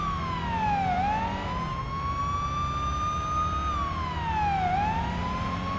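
A police car siren in the Police Simulator: Patrol Officers video game wails continuously, its pitch sweeping down and back up twice in a slow cycle over a steady low engine rumble, loud and close.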